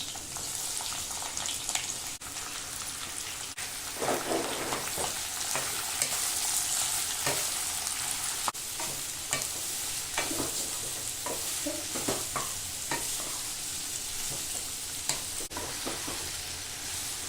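Six sliced onions sizzle in hot mustard oil with black pepper for a mutton korma, a constant loud frying hiss broken by repeated scraping strokes of a stirring spoon, with no talking.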